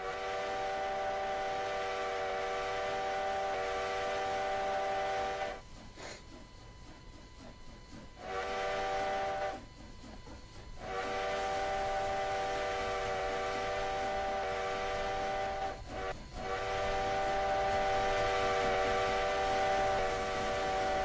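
A steam locomotive whistle in the Trackside railway video game blows as a long, loud, steady tone, dropping away briefly twice and then resuming, with a slight looping repetition and train rumble underneath.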